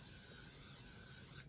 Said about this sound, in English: even if you got to give her a light spray